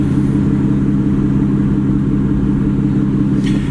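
Engine of an Aston Martin Vanquish S Ultimate, a loud, steady deep drone that holds throughout, close and alone without talk.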